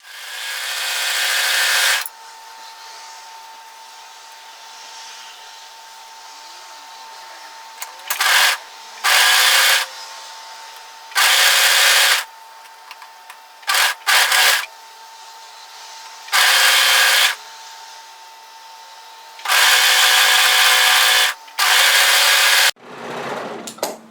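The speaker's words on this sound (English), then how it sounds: "now's the time to sew the other sleeve together" A sewing machine stitches a fitted cardigan sleeve in bursts of loud, close, steady whirring. The bursts vary from brief stabs to runs of a couple of seconds, separated by a quiet hum, with no talk.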